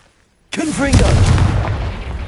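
A Confringo fire spell blast in Hogwarts Legacy on PS5, a sudden loud burst followed by a sustained roaring rumble with a voice briefly heard at the onset.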